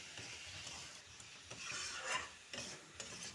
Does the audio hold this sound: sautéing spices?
yes